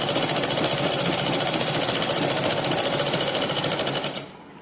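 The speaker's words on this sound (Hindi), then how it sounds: "अब पेटीकोट के बीच की सिलाई लगा देंगे।" A sewing machine stitching the center seam of an A-line petticoat, running in a fast steady rattling hum for about four seconds before stopping abruptly, close and loud with no talk.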